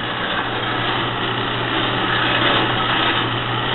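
TURNPRO 7x12 band saw with a 4-speed belt drive, its motor running alone with a steady, even hum and whir at moderate level.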